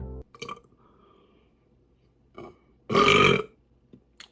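A single loud, rough burp lasting about half a second stands out between short bursts of talking.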